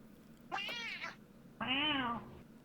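Two drawn-out meows from human voices imitating cats in a VRChat session, the second longer and fuller, both clear and close over a quiet background hum.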